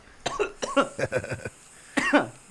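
A series of harsh, close coughs in quick bursts, a pause, then another pair of coughs, with no speech.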